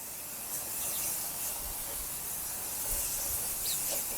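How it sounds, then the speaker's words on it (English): A rust-freezing aerosol spray is applied to medieval steel armour pauldrons, giving a continuous close hiss that runs unbroken for several seconds with slight surges and faint knocks underneath. "Spray into the pauldrons. Now on the outside of the pauldrons."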